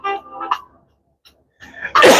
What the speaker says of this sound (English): Something got me sneezing, man.